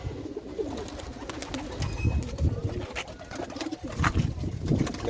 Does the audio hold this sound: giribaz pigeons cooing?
yes